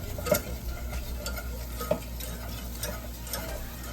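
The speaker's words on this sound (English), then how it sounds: "Whisking constantly, it says." A whisk scrapes steadily around a hot pan while mixture sizzles softly, with a few sharper metallic taps standing out, continuous and close with no talk, as an egg strata sauce lightly browns.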